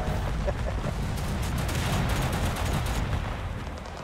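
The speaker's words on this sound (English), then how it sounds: "No idea why I am shooting at them." Gunfire fills a session of the video game Total Conflict Resistance with a dense, continuous barrage of loud shots and booms throughout.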